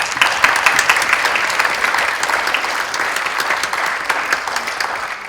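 An audience at a film festival talk bursts into sustained, dense clapping that holds steady for several seconds, with no voices over it.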